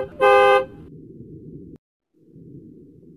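A car gives a loud, bright horn toot, followed by a steady, low engine rumble that cuts out briefly and then resumes.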